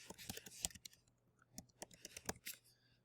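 Quick irregular keystrokes on a computer keyboard while entering a search query, a rapid run of light taps with brief pauses, fairly quiet over a low steady hum.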